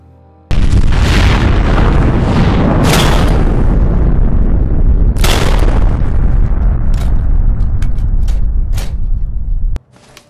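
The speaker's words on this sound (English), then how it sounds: "Fragmentation grenade." A fragmentation grenade detonates with a loud, sudden boom that becomes a sustained roaring blast with several sharp bursts and crackles, then cuts off abruptly.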